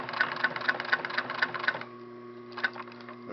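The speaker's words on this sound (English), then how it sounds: "go over the first stitch at least once" Sewing machine running in rapid even stitching bursts while sewing velcro onto a rear shoulder piece, then stopping for a short pause before a brief final run of stitches, loud and close with no talk.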